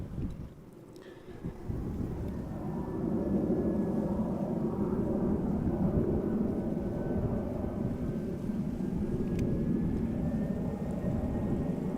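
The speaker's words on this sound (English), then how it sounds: "22517 arriving from London Luton, A319." An EasyJet Airbus A319 arriving from London Luton at Amsterdam Schiphol Airport, heard as a broad, steady jet roar that swells after the first few seconds and holds loud and continuous, with no talking.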